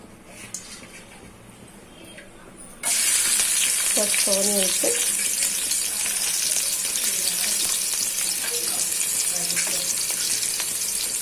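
Onions hit hot oil and burst into a loud, steady sizzle that runs on without a break, with a few brief stirring or utensil sounds over it and a quieter lead-in before the oil starts hissing.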